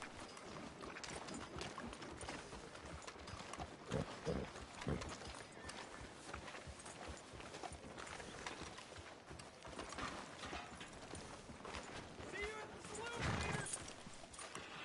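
Horse hooves clip-clop at a walking pace in Red Dead Redemption 2, soft and steady beneath ongoing dialogue and ambient game sound.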